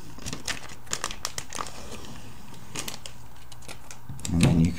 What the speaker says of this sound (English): You can remove the protective coating to reveal the photograph.